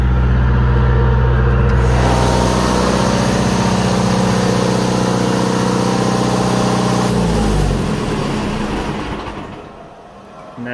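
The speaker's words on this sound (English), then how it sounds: "All right, so let's shut her down." An Onan DJC diesel generator in a generator room runs with a steady, loud mechanical drone, then winds down as it is shut off, its rumble fading over the final seconds before a faint noise remains.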